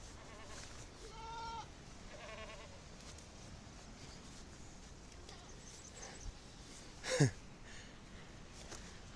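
A herd of goats crowding a tricky mountain trail on the Beas Kund trek near Manali, Himachal Pradesh, with scattered faint bleats and one louder close bleat over wind and rustling.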